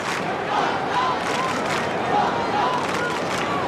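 An Australian football crowd at the Dome during a Kangaroos versus Carlton match makes a steady, loud roar with shouts rising and falling across the whole stretch.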